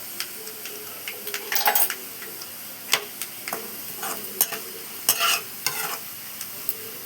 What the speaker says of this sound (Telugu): బ్రౌన్ కలర్ వచ్చేంత వరకు వేపుకుందాము